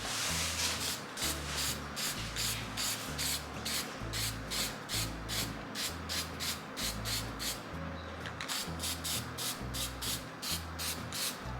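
A pinewood derby car is spray painted in quick repeated bursts of hissing spray, close and steady, with low rhythmic rubbing underneath and no talking.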